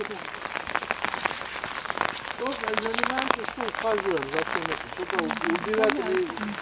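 Steady rain patters on surfaces throughout, a dense continuous hiss close by, while people talk over it.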